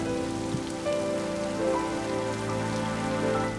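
Steady rain pours down in a film's dancing-in-the-rain scene, a dense continuous hiss of drops striking surfaces, close and fairly loud throughout with no talking.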